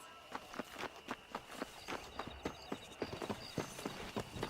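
Horse hooves clip-clopping in a steady, even walking rhythm while riding in the Western game Red Dead Redemption, moderately close and alone with no speech.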